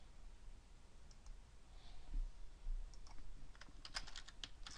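Keys on a computer keyboard are tapped quietly in a few scattered strokes, then come in a quick, closer burst of clicks near the end against a faint room hum.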